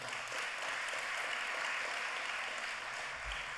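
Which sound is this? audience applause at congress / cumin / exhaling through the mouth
audience applause at congress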